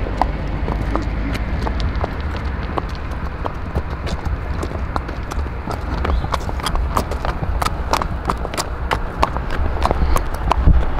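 Horses' hooves clip-clop on a road surface as riders cross, a steady, brisk stream of sharp hoof strikes under continuous outdoor rumble, fairly loud and close throughout.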